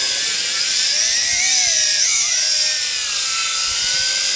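A Tarantula X6 drone in flight, its motors and propellers making a loud, close, high buzzing whine that rises and dips in pitch as the throttle changes.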